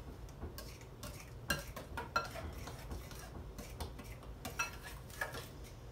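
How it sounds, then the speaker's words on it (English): A spoon stirring chunky homemade salsa in a bowl, soft scraping and a few light clinks against the sides, close and quiet with no talk. "Give that another good stir."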